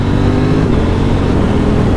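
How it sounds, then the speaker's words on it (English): A KTM Duke 890 GP motorcycle engine drones steadily and loudly throughout, a continuous close-up engine rumble through gear shifts with no distinct breaks. "The sound of the engine, the gear shifts."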